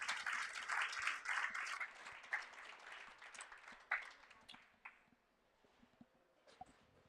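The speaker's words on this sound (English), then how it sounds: "Shandy, let's give Shandy a round of applause." Quiet applause from a small audience at the 34th Annual International Golden Ladies Classic golf event, Super Senior Plus division: scattered clapping that thins out and fades to a few isolated claps, heard from a distance.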